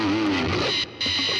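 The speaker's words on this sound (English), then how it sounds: "if I put the compressor on, it's boosting it into the distortion and you get this." Electric guitar through a Line 6 Pod HD500X with the compressor pushing into distortion, a loud, thick, saturated tone sustained for about a second and a half with a brief drop near the end.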